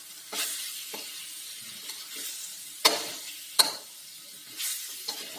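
Lemongrass, galangal, bay leaves and lime leaves sautéing in a mosque kitchen for beef rendang, with a soft steady sizzle and scattered spoon scrapes, including a few sharper clinks near the middle.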